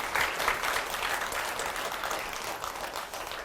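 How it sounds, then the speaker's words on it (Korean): A lecture audience gives a warm round of applause in thanks to King Sejong, moderately soft clapping that carries evenly and tapers a little toward the close. "세종대왕께 뜨거운 감사의 박수 한번 보내드리죠."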